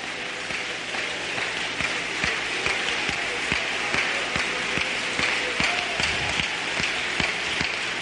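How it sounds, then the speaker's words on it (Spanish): Church congregation applauding steadily throughout, a dense, sustained wash of many hands clapping with a faint rain-like texture and no clear voices on top. "Dele, dele, dele el aplauso."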